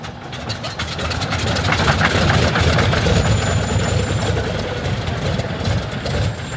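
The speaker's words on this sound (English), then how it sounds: "Starting the 14-cylinder Pratt & Whitney radial engines is more art than science" Fourteen-cylinder Pratt & Whitney radial aircraft engines rumble and clatter loudly as they catch and run up, a rough mechanical roar filling the space.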